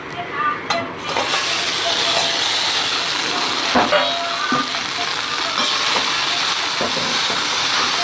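Loud sizzle as rice hits a hot pan for sesame seed rice (ellu sadam), a dense frying hiss with a few clinks and stirring scrapes, close and continuous.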